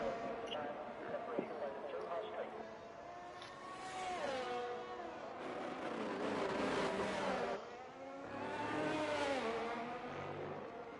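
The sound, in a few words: race car driving out on track in a sim racing video game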